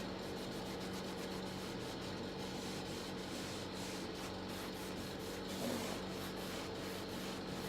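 Cloth rubbing dark wax off wooden furniture makes a steady, close scrubbing and rubbing sound that continues throughout with no pauses.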